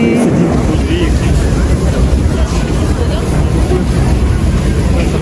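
Passengers board a boat at Niagara Falls amid a loud, constant rumble of engine and water, with heavy wind buffeting and voices mixed into the noise.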